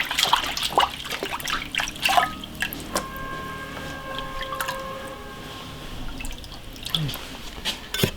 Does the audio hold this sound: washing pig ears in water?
yes